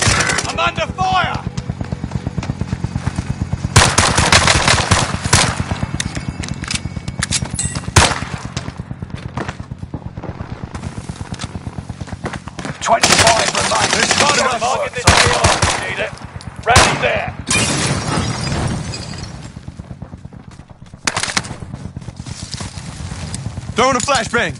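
Machine gun fire in the video game Warzone, loud rapid bursts repeating across the scene alongside other battle noise, with voices talking throughout.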